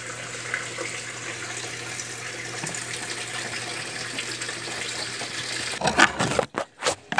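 Water from a 1993 Brastemp Mondial washing machine's pump hose pours steadily into a floor drain, a continuous rushing gush that turns choppy and sputtering near the end.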